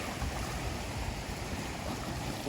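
Large waves on the Brisbane River wash steadily against the bank in a continuous broadband roar of surging water, close and fairly loud with no break, with wind noise buffeting the microphone.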